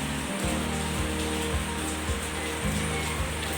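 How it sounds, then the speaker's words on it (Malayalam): Heavy rain falling steadily as a constant broad wash of hiss, with a low repeating hum and faint thuds underneath, no voices. "ഇപ്പോൾ ഇവിടെ നല്ല മഴയാണ്"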